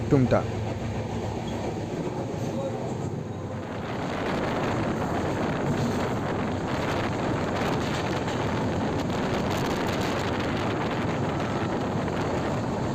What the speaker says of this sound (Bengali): আমাদের ট্রেন মেচেদা স্টেশনের চার নম্বর প্ল্যাটফর্মে প্রবেশ করছে